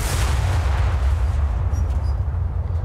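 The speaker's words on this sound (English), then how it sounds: "Let's shoot some high explosive and see what happens." High-explosive shells fired from a Fletcher destroyer in a naval video game, booming in a dense, continuous rumble of heavy gunfire that fills the clip and fades slightly toward the end.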